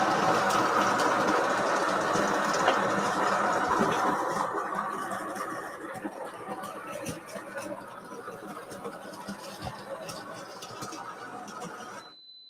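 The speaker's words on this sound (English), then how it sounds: "I'm going to go ahead and grind us for 2 shots" Coffee grinder working through beans for two espresso shots: a continuous whirring grind that gradually softens and thins, then stops abruptly, followed by a brief electronic beep.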